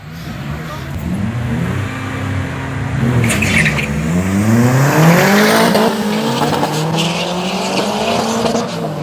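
Drag racing cars at a racetrack, one a fuel-burning 480 turbo, roar hard from launch with rising revving engine notes and tire squeal. Loud and close, with a continuous engine drone filling the whole stretch.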